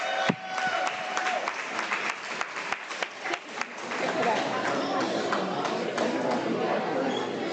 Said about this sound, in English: round of applause one more time for our senator.